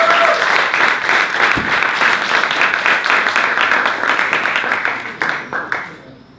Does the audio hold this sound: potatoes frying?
no